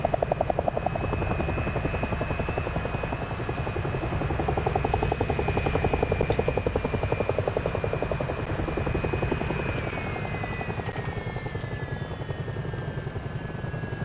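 Helicopter in the DCS flight simulator game at a virtual airshow, with a loud, steady, close rotor chop and turbine whine running throughout and no talking.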